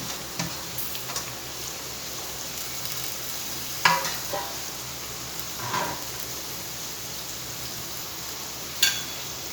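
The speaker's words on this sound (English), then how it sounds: "Now we'll add all the other vegetables, cabbage, capsicum, carrot and spring onion greens." Cabbage, capsicum, carrot and spring onion greens stir-frying in a pan for chicken Hakka noodles, a steady close sizzle with a few sharp clicks and scrapes of stirring breaking through, no voices.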